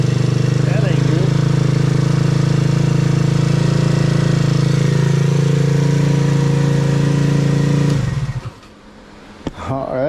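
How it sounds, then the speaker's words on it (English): Scooter engine running on a test stand, a loud steady close drone for about eight seconds before cutting out abruptly, followed by near silence and a few small clunks. "we got a functioning engine test stand"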